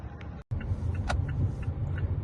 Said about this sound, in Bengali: এই চালাচ্ছি, একটা সিগন্যালে আটকেছি, তো দাঁড়িয়ে আছি সিগন্যালে।